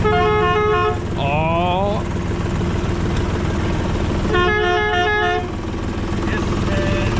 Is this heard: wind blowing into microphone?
no